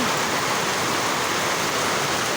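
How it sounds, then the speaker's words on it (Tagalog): Heavy storm rain pouring down in a dense, continuous roar, loud and close, with no voices heard. "Oh, kusog yung ulan day guys"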